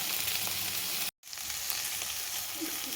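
Okra sizzling steadily in a pan for a coconut-spice fry, a dense continuous crackle with one brief silent break partway through, no voices.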